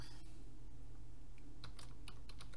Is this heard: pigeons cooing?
no